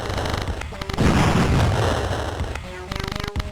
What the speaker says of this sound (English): Probably shouldn't have been so close to the explosion.